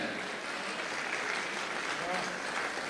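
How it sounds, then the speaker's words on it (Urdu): Steady applause from an audience welcoming a poet at an all-India mushaira, a dense wash of clapping heard at a distance, continuous and even throughout with no clear individual claps. "زوردار تالیوں سے ان کا استقبال کیا جائے۔"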